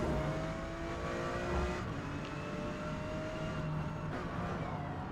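Porsche GT2 race car lapping a wet Mid-Ohio track in Forza Motorsport, its engine note droning steadily with rising and falling revs throughout, loud and continuous with no talk.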